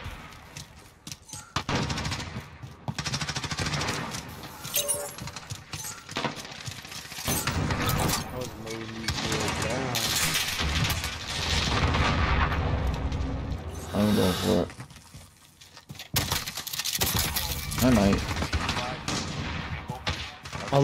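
Dragon's breath shotgun with the Firedrake legendary blueprint firing in Call of Duty Modern Warfare Season 2, loud repeated booming blasts amid dense gunfire and game effects over the full stretch, with brief gaps and a talking voice.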